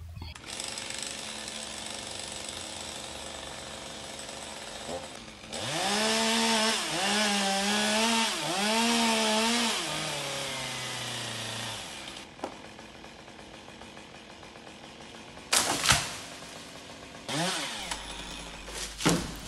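A chainsaw cuts through the stem of a tall alder tree, its engine revving and bogging in a steady high whine while biting the wood, then dropping to idle with a few sharp bursts near the end.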